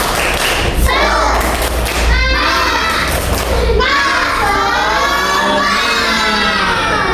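Fifth-grade class in a classroom doing a rhythmic clapping chant together, loud and close, with children's voices shouting along in a crowded, energetic burst.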